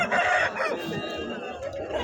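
A Kakinemali rooster at a poultry market crows once, loud and close, with a clucking, drawn-out call that fades into softer clucks and background market noise.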